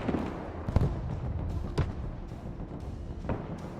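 Mortar fire in the military strategy game Broken Arrow, with a few distant dull booms spread across the clip over a rumbling battlefield background.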